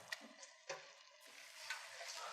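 A spoon stirs risotto rice with wine in a hot pan, giving soft scraping strokes over a faint steady sizzle, quiet and close.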